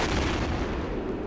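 Loud, rumbling artillery blast in the Men of War: Assault Squad war game, a single sustained boom filling the brief moment with no talk.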